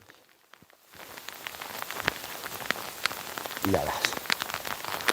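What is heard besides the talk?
heavy rain falling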